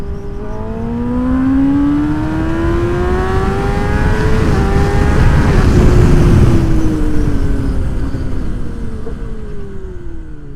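A 10R sport motorcycle accelerates hard at speed, its engine note climbing steadily in pitch and swelling louder through the middle before holding a high, sustained roar, close and continuous with no talking.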